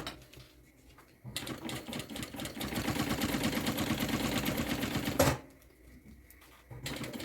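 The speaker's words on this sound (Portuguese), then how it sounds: "Vou rebater a costura com meio pé de máquina." A sewing machine topstitching a seam with a half presser foot: a steady, fast, close mechanical whirr that runs about four seconds and stops abruptly, with quiet pauses before and after.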